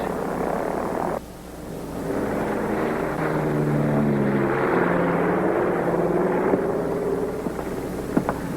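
A Navy aircraft taxiing for takeoff gives a steady, loud propeller-engine drone with a low, humming tone. It dips briefly near the start, then swells and holds, with no talk over it.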